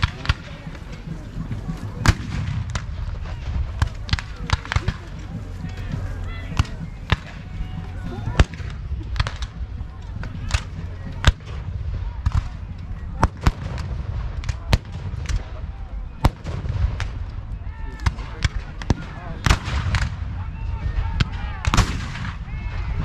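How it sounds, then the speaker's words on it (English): Repeated sharp booms and cracks of horse-drawn cannon fire at a Battle of Gettysburg reenactment, at irregular intervals over a steady rumbling background, loud and continuous throughout. "A federal horse-drawn cannon is presenting itself on the field."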